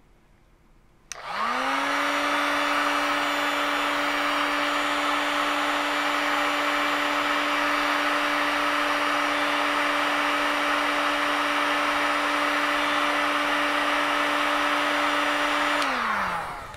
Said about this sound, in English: Now we are using a heat gun to heat it up to reach this 100, to see if it turns off.